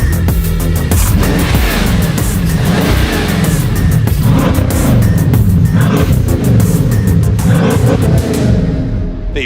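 Lucid Air Sapphire electric sedan accelerating hard, a loud sustained drive roar with rising and falling sweeps over steady tire and wind noise, continuous for the whole stretch before easing off at the end.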